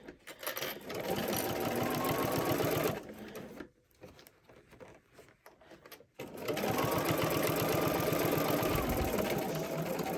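A sewing machine stitches fabric around a curve in fast, steady rhythmic bursts, close and loud, pausing briefly midway before running again at an even pace.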